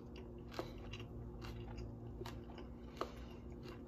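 Close, quiet chewing of a raw, oil-free green salad dipped in a homemade sauce, with a few sharp crunchy bites over steady soft mastication.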